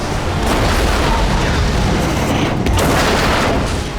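A truck crashing hard onto its driver's side in deep snow on a winter highway: a loud, sustained roaring rumble and crunch that stays heavy throughout the few seconds.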